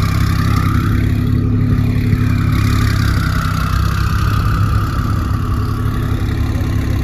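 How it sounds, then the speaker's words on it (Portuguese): A Porsche engine idles with a deep, steady exhaust rumble, loud and close, holding an even tone throughout with no voices. "Olha esse escapamento, velho."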